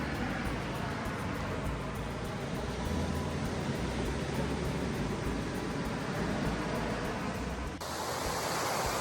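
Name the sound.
ocean waves on shore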